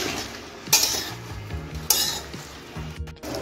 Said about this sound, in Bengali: এখন আমি সবজিটাকে সব হলুদের সঙ্গে ভালো করে কষিয়ে নিচ্ছি।